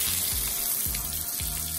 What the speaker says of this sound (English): You hear that sizzle, right?